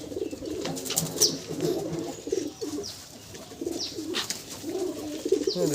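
Andhra Madrasi pigeons coo steadily in an open-air setting, a flock of overlapping soft, throaty calls with occasional sharper chirps and fluttery noises rising above a constant close-by murmur; no speech.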